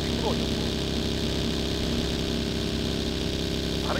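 Motorcycle engine in PUBG idling and running at a steady, continuous hum, loud and constant throughout, with no clear throttle changes.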